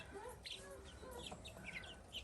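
Young Bielefelder chicks huddled in a newly renovated coop give faint, scattered high peeps over a quiet, low background.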